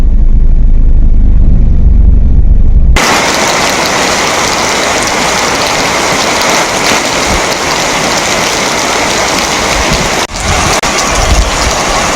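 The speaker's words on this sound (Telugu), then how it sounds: "ఉమ్మడి వరంగల్ జిల్లాలో భారీగా వర్షం కురుస్తుంది" Heavy monsoon rain pours down in Warangal, Telangana, in a dense, loud, unbroken roar after a low rumbling start, steady for the rest of the stretch.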